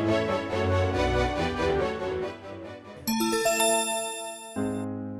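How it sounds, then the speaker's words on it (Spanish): A bright page-turn bell chime rings out over soft music in a Spanish read-along of Hansel and Gretel, its tones sustaining and layering before fading into a final shimmering ding. "Al oír la campana, dale vuelta a la página."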